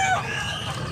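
A rooster crows at a gamefowl market in Tabunok, Cebu, a single loud, close call lasting under a second.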